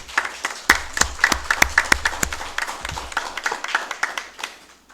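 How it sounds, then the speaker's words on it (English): A small group at a county council meeting claps in a loose, uneven patter, individual claps distinct and close, continuing steadily throughout. "So a nice round of applause for them."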